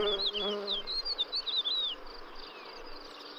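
A defensive bee buzzes up close and loudly in the wild, a steady droning whine with wavering pitch that fades toward the end.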